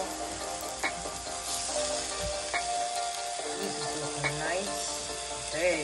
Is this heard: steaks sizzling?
yes